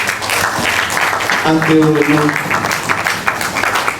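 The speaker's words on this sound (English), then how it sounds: "Continue to clap." Audience clapping fills a university academic conference hall, steady and dense throughout, while a voice speaks over it partway through.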